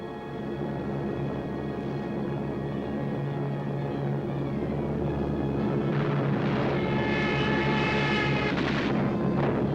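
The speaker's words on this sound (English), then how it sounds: "So the Germans brought up their bombers." German bombers fly over in archival WW2 film footage, a dense, steady engine drone that holds at the same level throughout, with a rougher, brighter swell toward the end.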